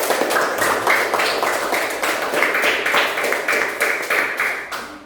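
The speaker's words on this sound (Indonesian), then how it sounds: "Tepuk tangan untuk kelompok Miftah" A classroom of students clapping for a student group, a brisk, close patter of hand claps lasting several seconds and fading at the end.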